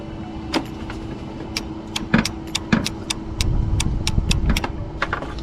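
Repeated sharp clicks from the ignition solenoid (carburetor solenoid) on a Briggs & Stratton riding mower engine, about a dozen irregular snaps outdoors over steady wind rumble, with no talking.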